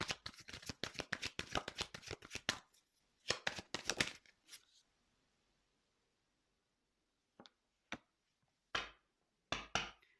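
Tarot cards shuffled in rapid riffling bursts, then a few sparse, isolated snaps and flicks as cards are drawn, close and crisp with no talk.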